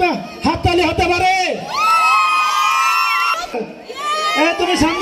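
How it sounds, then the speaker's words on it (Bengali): An audience at a gathering cheers for the 2014 batch, with loud whoops and shouting voices rising and overlapping in a lively, close crowd din that swells, dips, then surges again. "2014 ব্যাচের জন্য একটা হাততালি হতে পারে।"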